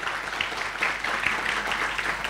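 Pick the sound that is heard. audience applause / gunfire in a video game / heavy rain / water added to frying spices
audience applause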